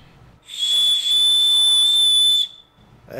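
A 3D-printed dart whistles through the air, a single steady high-pitched tone lasting about two seconds, clear and loud, then cut off abruptly.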